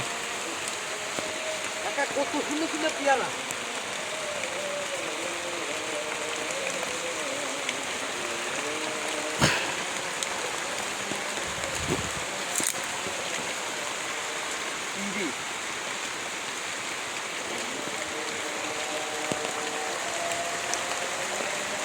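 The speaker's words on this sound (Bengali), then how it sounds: "দেখছেন বৃষ্টি পড়তেছে" Steady outdoor rain makes an even, continuous hiss of drops close by, with a person talking over it at moderate level.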